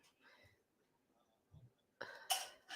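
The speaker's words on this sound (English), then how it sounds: "this cough has been persistent" A few short coughs come in separate bursts amid quiet room tone, with a louder, harsher cough near the end.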